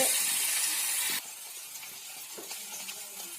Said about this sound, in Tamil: நல்லா இன்னும் கொஞ்சம் நல்லா வதக்கிக்கலாம்